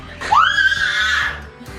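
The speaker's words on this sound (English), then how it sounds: "listen how she screams when I let the water out." A baby girl screams loudly in a long rising-then-falling wail in a bathtub as the bath water drains, a single sustained cry lasting over a second, fairly close.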